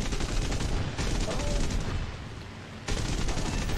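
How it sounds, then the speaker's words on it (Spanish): Gunfire in the War Thunder flight simulator, dense rapid bursts of shots rattling continuously with a brief dip before resuming, fairly loud. "Vale, veo disparos, le están disparando a un compañero"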